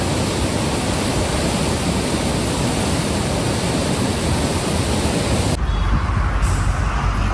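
Water surges through the lock gates of the Farakka Barrage as a loud, steady roar of broadband rushing that fills the whole stretch without letting up.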